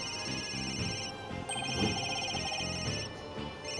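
A telephone rings continuously in the video game Ace Attorney: Dual Destinies, a bright repeating electronic trill heard alone at moderate volume.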